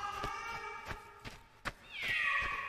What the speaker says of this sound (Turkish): Şu kedilere bak.